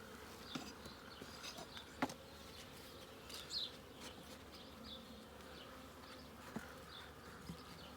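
Bees hum around an open hive during a four-week inspection, a faint, steady drone with individual bees buzzing past the microphone now and then.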